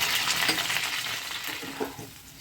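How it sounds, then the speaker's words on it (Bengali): Potatoes fry in a pan with boiled onions and broken green chillies, giving a steady, close sizzle with soft stirring scrapes and a few brief clinks throughout, and no voices. "আলুগুলো হালকা ভাজা হয়ে গেছে তার সঙ্গে সেদ্ধ পেঁয়াজগুলো ভাজা হয়েছে"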